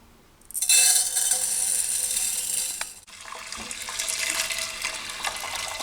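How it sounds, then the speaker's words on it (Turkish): Water gushes from a tap into a pot holding rice for Turkish yogurt soup, a steady loud hiss that briefly breaks off and resumes more softly. "Bir buçuk litre kadar su ilave ediyorum arkadaşlar içerisine"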